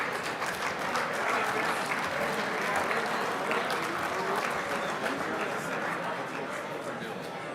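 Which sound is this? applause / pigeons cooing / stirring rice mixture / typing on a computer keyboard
applause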